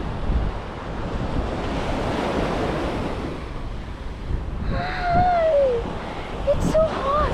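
Ocean surf rolls onto An Bang Beach in Hoi An, Vietnam, a continuous wash of breaking waves roughened by wind buffeting the microphone, with brief high squeals and voices nearby toward the end.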